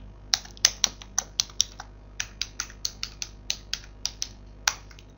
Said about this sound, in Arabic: اكتب كلمة السر ونضغط انتر.